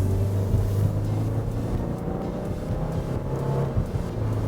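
A 2015 Subaru Impreza with a CVT and smaller wheels accelerates, heard from inside the cabin as a low, steady engine drone rising gently under road and wind noise, fairly quiet and without talk.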